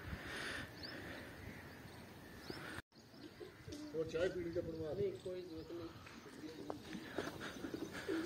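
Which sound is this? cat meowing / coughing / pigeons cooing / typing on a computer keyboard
pigeons cooing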